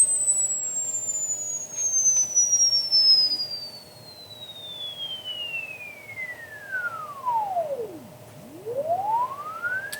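A pure sine tone sweeps steadily downward in pitch from high to very low, then turns and climbs again, played through a sound card in a loopback test with nothing else connected; a faint steady hum sits underneath.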